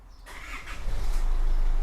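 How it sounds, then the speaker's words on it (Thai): An Isuzu D-Max 2.5 Hi-Lander pickup truck engine cranks and catches after a short quiet start, then settles into a steady low rumble that continues to the end. "เดี๋ยวเราจะฟังเสียงเครื่องยนต์นะครับ"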